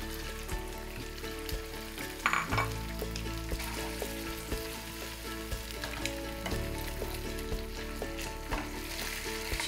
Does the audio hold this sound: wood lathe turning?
no